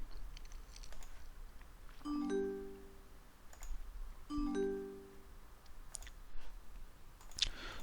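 Two separate computer mouse clicks, each a light tick followed by a short chime, on a quiet background with faint room noise and no talking.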